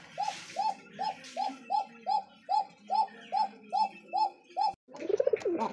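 Pigeons cooing in a loft, a steady series of about a dozen evenly spaced, close coos, followed by a brief burst of softer jumbled bird calls.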